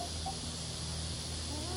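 Farm chickens cluck faintly in the background on a farm where a king snake is prowling, a few soft scattered clucks under steady outdoor noise.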